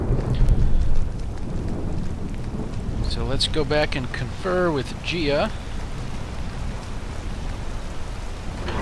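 Steady rain with low thunder rumble in the video game Vigilant Chronicles, a constant wet hiss running throughout while someone talks over it in the middle.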